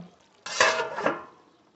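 Chicken being stirred in a pot on medium flame gives a short burst of metallic scraping and clinks from the spoon against the pot, then fades out.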